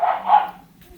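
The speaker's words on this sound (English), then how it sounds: "Dogs are going crazy." Dogs barking indoors in a conservatory, a burst of loud barks for the first half second, then quieter trailing sounds.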